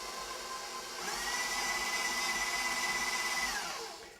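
A stand mixer stirring chocolate cake batter for a German chocolate cake: a steady electric motor whine that rises in pitch and holds, close and fairly loud, then winds down at the end, with no voices.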